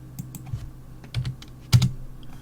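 Quick bursts of clicking keystrokes on a computer keyboard, a few short irregular clusters heard close and fairly quiet, with no voices.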